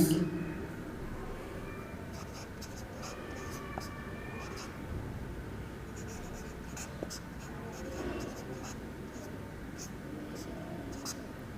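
A formula for bond yield to maturity is written by hand on a board, with steady scratchy strokes and short taps running throughout at close range, without clear speech.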